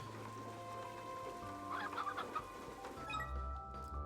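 Chickens cluck in the video game Slime Rancher 2, a string of quick, close clucks rising in the middle of steady game ambience and music, with no voices.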